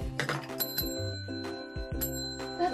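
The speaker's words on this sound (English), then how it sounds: "A bell." A toy bell from a children's play kitchen set rings out in clear, sustained metallic tones, struck about three times with bright lingering resonance, while low household noise and faint handling sounds run beneath.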